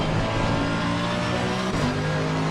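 Mercedes-AMG GT3 Evo race car in Assetto Corsa Competizione at Zolder, its engine droning loud and steady with a sustained mid-range tone and a brief gear-shift dip near the end.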